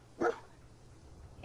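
Dogmeat, the dog in Fallout 4, lets out a single sharp bark close by, followed by quiet game ambience and a faint second sound at the end.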